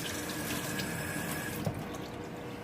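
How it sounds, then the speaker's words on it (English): A kitchen faucet runs steadily while hands are rinsed under it, a soft even rush of water with a faint splash partway through, quiet and with no talk. "I'm gonna go ahead and rinse my hands real quick"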